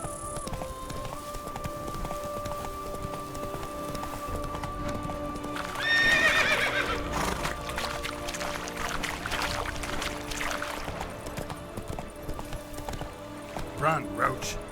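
Roach the horse from The Witcher 3: Wild Hunt – Blood and Wine gallops with a brisk, steady clip-clop of hooves and a neigh partway through, under a low game ambience and some speech.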